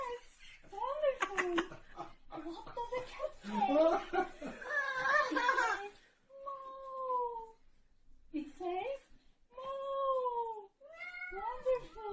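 A voice imitates a cat, drawing out several rising-and-falling meows after a burst of giggly chatter and laughter.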